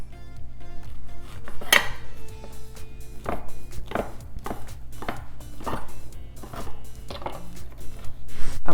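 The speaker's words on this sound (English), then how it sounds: "I'm gonna cut each of these in half and then into cubes" A knife cuts bread into cubes on a board, a series of irregular close thuds and crunchy slices with occasional clinks of kitchenware, steady and without any talking.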